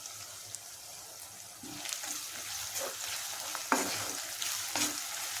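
Onions frying in a pan while a spoon stirs them, with a soft steady sizzle under scattered scraping and clinking strokes.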